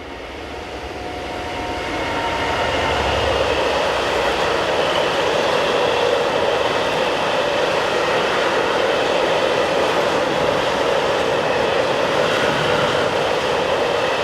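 Locomotive 66123 hauling a southbound train of fuel tank wagons, building from a faint approach to a steady, loud rumble of wheels and wagons passing close by for over ten seconds, with no speech.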